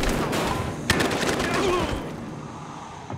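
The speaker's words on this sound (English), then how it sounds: "Shots fired!" Dense, loud gunfire in Battlefield Hardline: rapid overlapping shots and bursts with one sharp crack standing out, fading slightly toward the end, with shouted voices mixed in.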